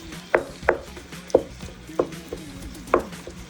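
Wooden spoon chopping and breaking up ground turkey in a pan for a mostaccioli sauce: five or six sharp, distinct knocks spaced roughly every half second, close and clear over quiet background.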